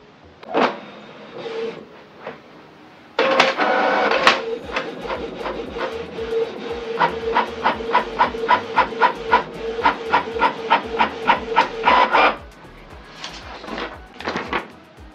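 A Canon PIXMA TS3750i inkjet printer whirs into a test page with a steady mechanical hum and a rapid train of rhythmic clicks and ticks from the feed and print head, close and alone.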